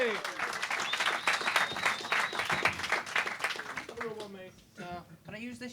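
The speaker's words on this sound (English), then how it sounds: "Clap and whoop and cheer and welcome to the stage" A comedy club audience applauds and whoops loudly for a few seconds, then the clapping fades as a voice begins talking.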